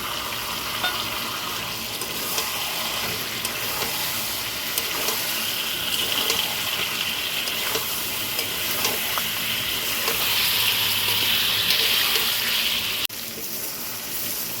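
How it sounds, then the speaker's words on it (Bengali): Spice masala with ginger-garlic paste and green and red chillies frying for chicken curry, a continuous close sizzle with soft scraping from stirring, swelling louder near the end before easing. "তো বন্ধুরা ভালোভাবে মশলাটা কষানো হয়েছে"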